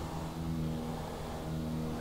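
A slow car accelerates in GTA V Online, giving a steady, moderately loud engine drone with a sustained hum that holds even throughout, with no voices.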